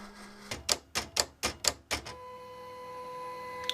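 A Silhouette cutting machine scores and cuts a print-and-cut glitter pen box. A quick series of six sharp mechanical clacks comes close together, then a steady motor whine takes over.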